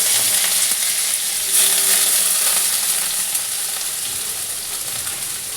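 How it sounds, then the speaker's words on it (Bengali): Shrimp fry in hot oil for a jackfruit-and-prawn curry, a constant close hiss and crackle that swells briefly and then settles into an even sizzle. "তেলটা আমার বন্ধুরা গরম হয়ে গেছে, তো আমি একটু চিংড়ি মাছটাকে ভেজে নিচ্ছি।"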